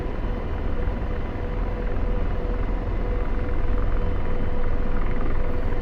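An AH-64D Apache helicopter lifts off in the DCS flight simulator with a loud, steady drone of rotor and turbine and a constant whine that swells slightly as it climbs.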